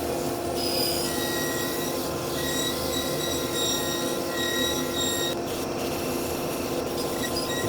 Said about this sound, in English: Don't want to be too heavy with the sanding.